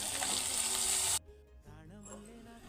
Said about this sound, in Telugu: ఉల్లిగడ్డ వేగింది ఇప్పుడు కాకరకాయ వేసుకుందాం